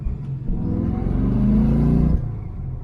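A 1991 Ford Foxbody Mustang rumbles from inside while driving, its V8 engine rising into a steady throaty rev that swells, holds, then drops back to a lower drone.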